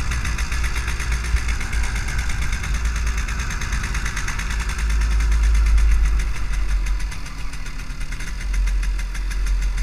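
An MZ 250 motorcycle engine runs steadily for the whole stretch, a deep, close, loud rumble with a rough, knocking edge that swells slightly midway, with no talking.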